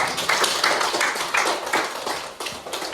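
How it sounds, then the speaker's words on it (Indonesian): A classroom group of students claps together for a presenting team, the hand claps coming in repeated bursts of uneven rhythm across the whole moment, fairly close and steady. "Boleh tepuk tangan untuk kelompok 2."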